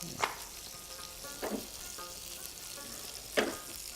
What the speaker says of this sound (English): our fish is sizzling away